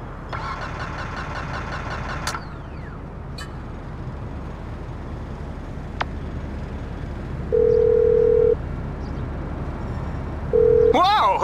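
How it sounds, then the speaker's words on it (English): A mobile phone ringtone in Grand Theft Auto V, heard as a patterned electronic tone that plays briefly at the start and is followed by engine sounds, a few short beeps and a brief burst of music near the end. "who changed my ringtone?"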